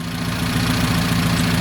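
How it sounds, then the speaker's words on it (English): A car engine fitted with a rebuilt ACDodd Fast Road carburetor idles steadily, a close, even low-pitched rumble with a regular pulsing beat and no other sounds. "So we've got the engine back running again"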